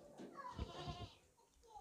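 A five-month-old goat in a livestock market bleats once, close and fairly quiet, with a wavering, drawn-out call that fades toward the end.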